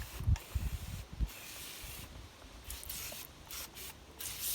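Traffic film remover sprayed into a car engine bay, several short bursts of hissing spray early on, then softer hiss and rubbing.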